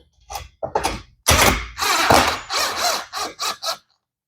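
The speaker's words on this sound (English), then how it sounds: "Get your screw holes lined up, and in we go." Screws being driven into an upholstered bed frame during assembly, heard as a run of loud, close bursts of driving and grinding, with short choppy pulses first, then a longer sustained stretch and several brief bursts.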